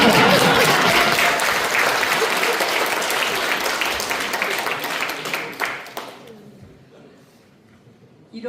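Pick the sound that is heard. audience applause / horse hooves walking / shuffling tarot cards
audience applause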